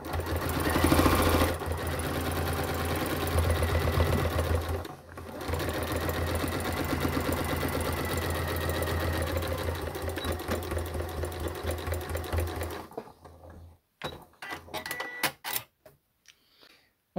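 A sewing machine stitches slowly through thick handbag fabric, running steadily and loud for about twelve seconds with one short pause, then slowing into a few sparse, uneven bursts before stopping.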